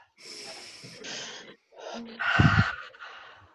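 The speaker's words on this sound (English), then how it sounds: "Okay, take a deep breath." Several slow, audible deep breaths are drawn in and pushed out, ending in a heavier, rough exhale, close to the microphone and otherwise quiet.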